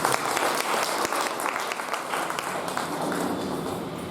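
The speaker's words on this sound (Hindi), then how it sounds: "चलिए अपने लिए ताली बजाइए।" Audience clapping at a spiritual talk, a continuous dense burst of many hands applauding together, steady and fairly close, with no talk over it.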